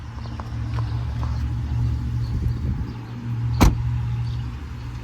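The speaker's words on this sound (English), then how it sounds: "You know it's quality when the doors sound like that when you close them." A single solid door thump from a 2022 Jeep Wagoneer Series III, one sharp close near the middle against a steady low idle hum.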